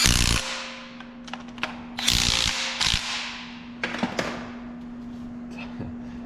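Torx bolts are tightened on a power steering pump of an LS-swapped 1980 Chevrolet Squarebody K10, with ratchet clicks and metallic tool clatter in short close bursts over a steady low hum.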